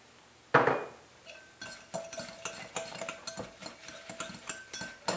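Dried breadcrumbs for a Cajun meat loaf are stirred in a bowl, giving a quick series of clinks and scrapes of a utensil against the dish after a sudden pour-like rush, moderately close and without talk.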